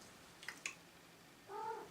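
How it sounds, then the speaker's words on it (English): A domestic cat gives a single short meow near the end, fairly close but quiet, after a couple of faint clicks in an otherwise hushed room. "There's a cat."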